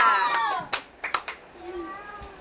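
Quick, sharp handclaps ring out during an indoor family game with a child, a few separate claps at close range following a voice.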